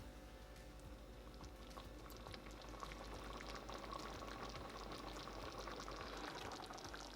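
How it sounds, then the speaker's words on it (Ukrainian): Sour cream sauce frying gently over low heat in a pan gives a quiet, steady bubbling and fine sizzling crackle that continues evenly from start to finish with no talk. "Добре все перемішуємо та обсмажимо на невеликому вогні ще буквально пару хвилин."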